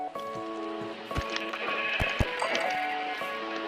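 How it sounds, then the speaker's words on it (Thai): Sheep bleating in Minecraft, several tonal bleats overlapping from a crowded flock, near and steady, mixed with game effects and a few sharp thumps. "แกะเต็มเลยแกะเต็มเลย"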